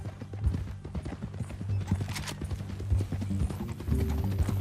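Horse hooves clip-clop at a steady walking pace in Red Dead Redemption 2, close and distinct, with a low musical drone and faint voices underneath.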